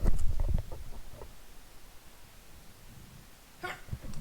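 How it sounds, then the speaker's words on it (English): A single close, loud human sneeze at the start, followed by quiet room tone and a short sniff or breath near the end. "I'm going to sneeze as well, just bear with us."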